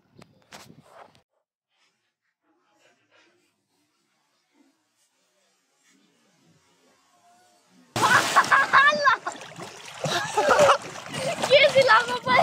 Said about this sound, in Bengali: তো জাম্পেশ একটা জাপ দিব এখন